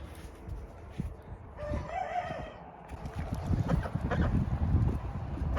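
Hens and a rooster on a farm by a creek, with clucking and a crow rising over steady outdoor background noise, fairly close and moderately loud.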